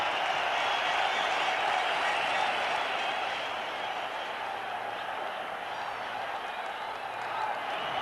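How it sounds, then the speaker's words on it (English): Stadium crowd roaring after a boundary at a 1996 Cricket World Cup quarterfinal between Pakistan and India, a dense, steady wash of cheering and applause that holds loud throughout. "This crowd roars."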